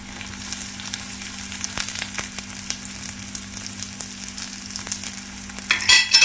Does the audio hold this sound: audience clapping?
no